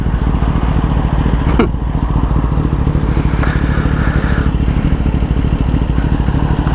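Kawasaki ZX10R sport bike engine drones steadily and loud from onboard as the throttle is rolled on smoothly, wind rush and a few faint clatters over the continuous engine note, with no talk.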